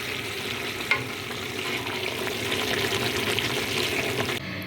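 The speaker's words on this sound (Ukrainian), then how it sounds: "тушиться начиночка. Постійно її помішую." Cabbage and mushroom pie filling with vegetables stewing in a pan, a continuous close sizzle and bubbling with spoon scrapes from constant stirring, one sharp knock near the start and a brief drop at the end.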